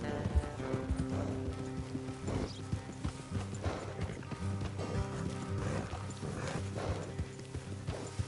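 Steady clip-clop of horse hooves trotting along in the video game Red Dead Redemption 2, with a low rumble and faint voices in the background.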